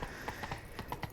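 Rapid clip-clopping hooves of Roach, a horse galloping in The Witcher 3: Blood and Wine, an even rhythm of quick steady beats, moderately faint.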